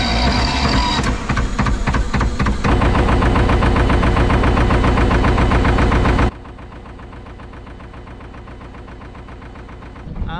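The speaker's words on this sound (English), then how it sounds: "So before I start the engine, I just put some revs on by turning my piece of string" A narrowboat's diesel engine cranks and catches, then runs with a loud rhythmic knocking before settling to a quieter, steady idle close by.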